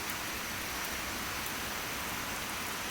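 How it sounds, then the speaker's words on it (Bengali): Monsoon rain falling steadily, a dense, even hiss of drops on surfaces continuing throughout without a break. "আজকে কয়েকদিন ধরে বৃষ্টি পড়তেছে"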